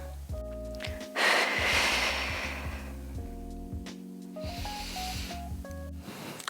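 Deep, slow breaths during a Pilates core exercise come in two long airy waves of inhaling and exhaling, heard over soft background music.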